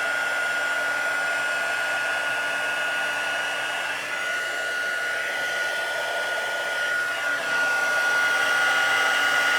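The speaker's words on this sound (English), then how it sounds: "once the heat gun gets going, I mean, everything starts melting much, much faster" A heat gun blows hot air in a steady, continuous whooshing whine at moderate volume, with a slight dip partway through and no voices.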